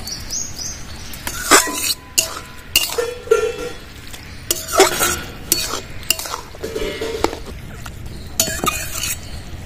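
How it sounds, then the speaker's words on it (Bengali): A water lily curry is stirred in a pot, with repeated metallic scrapes and clinks of a spoon against the vessel in uneven bursts over a faint bubbling simmer, with no talking. "ভালো করে নাড়াচাড়া করে নেবো।"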